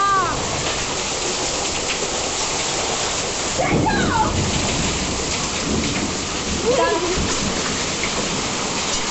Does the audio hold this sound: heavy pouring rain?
yes